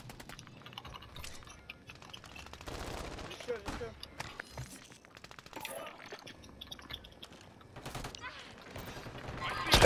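Gunfire crackles in a Call of Duty video game as scattered bursts of shots rise and fall, fairly faint, mixed with keyboard clicks.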